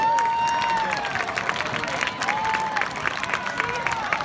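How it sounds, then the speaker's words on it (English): Audience applause and cheering for high school marching band and color guard seniors at a football-game band event, a dense sustained crowd noise with scattered whistles running throughout. "Let's give these seniors a round of applause."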